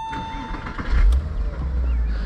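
A 2000 Porsche Boxster S cranking and firing up, a short starter whir followed by the engine catching with a low rumble that settles into idle, heard close and alone.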